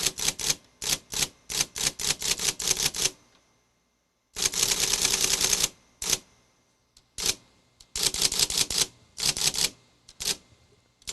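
Keys on a Juki Sierra typewriter clatter loudly and close by in quick bursts of strikes, with short pauses between runs and a longer rapid stretch midway.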